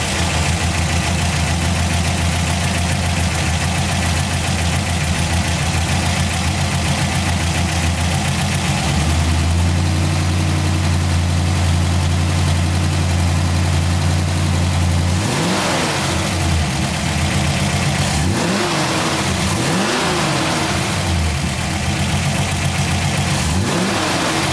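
A 1972 Chevrolet Nova SS with an L-78 engine idles loud and lumpy up close, then barks through several sharp revs that rise and fall before settling back.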